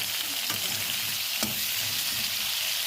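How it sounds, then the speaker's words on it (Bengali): Potatoes sizzle in a hot pan of oil for a potato-and-fulori dish, a loud, continuous crackling hiss with a couple of soft stirring knocks and no talking. "তারপর আমি এগুলোকে লাল লাল করে একটু ভেজে নেব।"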